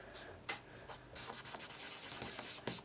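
A cotton round rubs blue ink along the top edge of a paper card in quick, faint scratchy strokes, a few short passes with soft rhythmic swishing and no talking.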